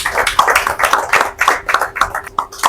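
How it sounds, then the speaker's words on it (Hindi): An audience at a welcoming ceremony claps in a brisk, uneven patter of hands, close and fairly loud, with individual claps standing out in quick succession against a faint steady hum. "ताली लगा दीजिए।"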